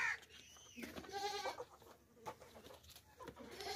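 A goat at a goat sale, bleating several times up close with wavering, nasal cries over a murky crowd background.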